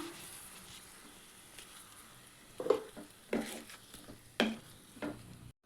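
Mushrooms sauté gently in a pan with a soft sizzle while ground coconut paste is stirred in, giving four or five distinct scraping knocks of a spoon against the pan, close and fairly quiet.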